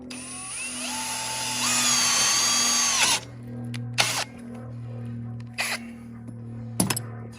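A power drill bores bolt holes into a trailer tongue for an off-grid LP tank generator trailer, whining for about three seconds, then a few short bursts follow against a steady low engine-like hum.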